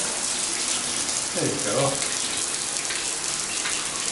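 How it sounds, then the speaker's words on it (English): Hot water pours from a shower head at good pressure in a house bathroom, a steady close hiss that runs throughout while a person speaks briefly over it. "And let's check the water pressure here. So that's the hot water."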